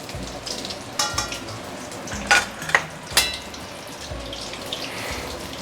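Prawn fritters bubble and crackle steadily in hot oil, a close, continuous sizzle broken by a few sharper pops and clatters of a utensil or pan.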